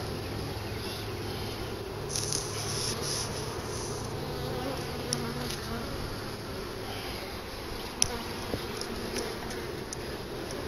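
Honeybees drone steadily around an open hive during a spring hive split, a dense continuous buzz close by with occasional louder passes of individual bees.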